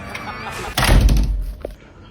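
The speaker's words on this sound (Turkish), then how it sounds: "Kapıyı açlıyorsun, geliyor" A door opens with a heavy, close thump and rattle that rises sharply midway and fades after about a second, followed by a small knock.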